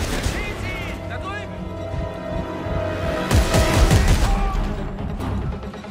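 Gunfire and heavy blasts from the sci-fi horror shooter Dead Space 3, with weapon bursts, crashing impacts and a loud explosion partway through, under shouted voices.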